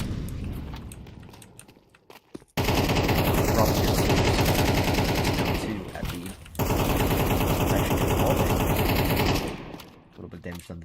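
Loud, dense automatic gunfire from the video game Counter-Strike, in two long sustained bursts with a brief break between them, framed by quieter moments at the start and end.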